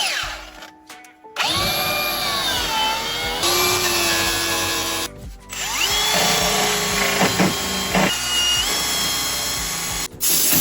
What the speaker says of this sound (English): The first thing I'm going to do is grind back all this sealer and paint